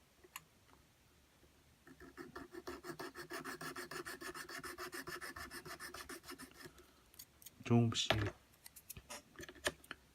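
Steady, rhythmic scraping strokes of a knife scoring a plastic Bandai Mega Size Unicorn Gundam model arm part repeat close up for several seconds, followed by a brief louder clatter and a few scattered taps.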